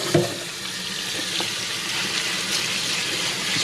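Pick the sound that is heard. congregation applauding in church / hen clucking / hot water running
hot water running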